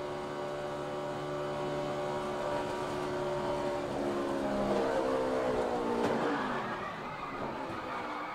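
Stock cars at the 2011 Budweiser Shootout roar through a turn in a steady, loud engine drone that swells and fades as the pack passes, with a brief tire squeal near the end.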